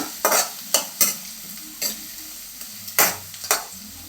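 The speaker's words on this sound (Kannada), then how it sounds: "ಹಸಿಮೆಣಸಿನ್ಕಾಯಿ ಕಟ್ ಮಾಡಿ ಇಟ್ಕೊಂಡಿರೋದು ಈಗ ಒಂದು ಐದು ನಿಮಿಷ ಫ್ರೈ ಮಾಡ್ಕೊಳ್ಳೋಣ" Chopped green chilies, carrots and beans fry in a pan with a close, steady sizzle, broken by several sharp, loud scrapes of a spatula stirring at irregular intervals. No talk.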